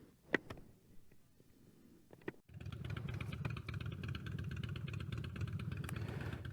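A motorcycle engine starts after a couple of clicks and knocks at a drag racing event, then idles roughly and loudly nearby with a steady throbbing rumble.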